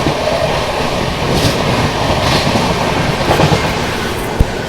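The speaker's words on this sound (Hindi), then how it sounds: "ज़बरदस्त रफ्तार में अलीगढ़ जंक्शन का स्किप हो रहा है।" A New Delhi–Banaras Superfast Express train speeding through Aligarh Junction, heard from inside a 2AC coach as a loud, continuous rumble with rhythmic clickety-clack of wheels over rail joints and a sharp knock near the end.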